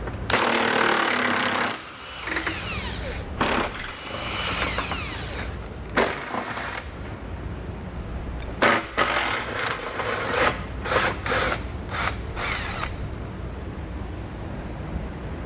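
A power tool with a 12mm socket removes rusted hitch bolts under a 2008 Subaru Forester, giving loud, close bursts of rattling impact hammering separated by brief pauses.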